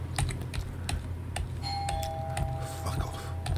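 Doorbell ringing in a home during a chess analysis session, a clear electronic chime sounding twice amid scattered keyboard typing and clicks in a quiet room.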